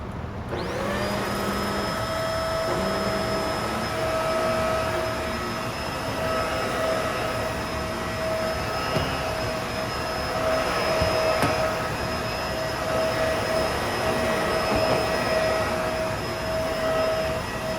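A Bissell Lift Off vacuum cleaner, freshly serviced with its filter and cyclone cleaned, starts up and runs steadily with a loud, continuous motor hum and high whine, alone with no talking.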